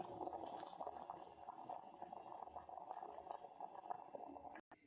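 Water bubbles at a steady low boil in a cooking pot where sweet potatoes are being boiled, a faint, continuous simmering that carries on without talk.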